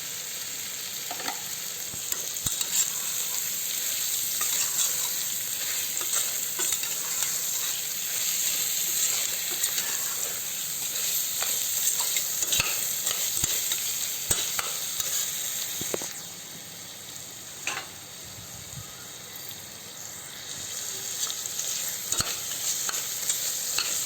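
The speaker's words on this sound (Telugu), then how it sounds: "ఒక 2 నిమిషాల పాటు టమాటా కలంతా మెత్తగా అయ్యేంత వరకు కలుపుతూ ఉండాలి." Tomato masala for mutton curry sizzles steadily in a pan while a spoon stirs and scrapes through it, with sharp clicks of the utensil against the metal and a brief dip in the frying hiss near the end.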